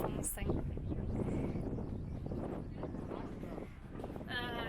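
Strong wind buffets the microphone outdoors on a Gansu–Qinghai road trip, a loud steady rumbling roar that fills the whole stretch.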